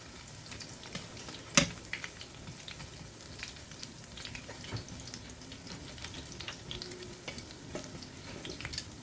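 Bangus (milkfish) Shanghai rolls fry softly in a pan, a faint steady sizzle with scattered light clicks and one sharp clatter as the rolls are turned.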